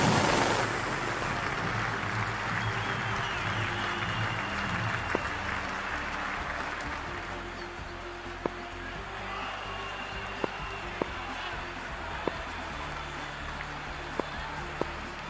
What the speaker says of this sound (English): the crowd is making plenty of noise for the opening game